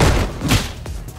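Street Fighter V Hadouken special move: a burst of whooshing energy with a punchy thump, a second sharper hit following close behind, loud and close over game noise.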